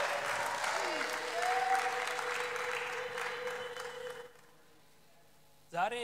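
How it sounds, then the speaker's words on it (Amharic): A church congregation breaks into loud, sustained applause for about four seconds, then it drops off sharply into near silence before a voice briefly rises at the end. "እስቲ አጨብጭቡ"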